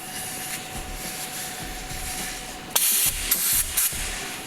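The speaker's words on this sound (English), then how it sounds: "I should now fill it up with helium." A balloon is filled with helium, a steady gas hiss under room noise, then several short, bright bursts of spraying gas near the end.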